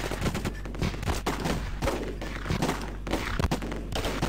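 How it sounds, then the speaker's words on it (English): Gunfire in the Close Combat strategy game, a dense run of sharp shots and thuds in quick irregular bursts, fairly loud and continuous over several seconds without talk. "We just need to shoot at them then."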